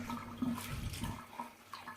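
Water drains from a hatchling crested gecko tote full of plants, a steady close rush and gurgle that runs for two seconds with no voices.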